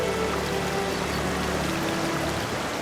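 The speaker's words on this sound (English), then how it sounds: "There was an irresistible appeal in the sight of a river in spate crashing over the rocks" A river in spate crashes over rocks at a Scottish waterfall, a loud continuous roar and rush of water with no pauses.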